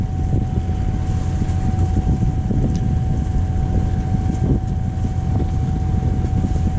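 Sailboat's auxiliary engine droning steadily at sea off the Catalan coast near Cap de Creus, a continuous low rumble mixed with wind and water noise, with a faint steady tone above it.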